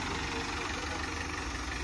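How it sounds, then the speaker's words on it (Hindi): A farm tractor's engine idles steadily and close by in a steady low rumble, just before it drives into water. "ये देखो भाई, मोहित भाई बैठ गया अपना ट्रैक्टर में।"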